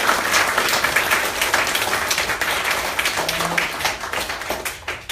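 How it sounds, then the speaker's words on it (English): Lively audience applause for two speakers at a conversation event fills the room, dense continuous clapping that stays loud for the full few seconds and thins slightly at the end. "let's give our two speakers another round of applause."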